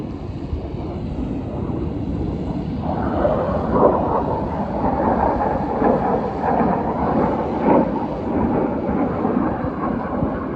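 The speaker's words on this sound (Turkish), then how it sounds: "Uçak sesi rahatsız edebilir kusura bakmayın." An airplane roars overhead, its broad rushing drone swelling after a few seconds and holding loud and steady, with no talk.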